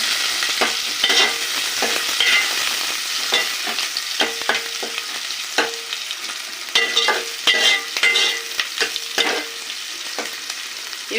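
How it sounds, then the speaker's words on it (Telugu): Thinly sliced onions frying in a pan, a steady close sizzle with frequent sharp scrapes and taps of a spatula as they are stirred. "చూడండి ఫ్రెండ్స్, వేగుతుంది"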